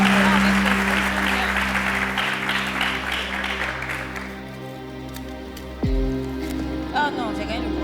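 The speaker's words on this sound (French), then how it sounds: "On l'applaudit." Studio audience applause on a French television game show, dense clapping at the start that thins out over several seconds under background music.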